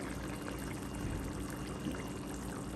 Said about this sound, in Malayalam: നമുക്ക് ഇച്ചിരി എണ്ണയൊക്കെ ഒഴിച്ച്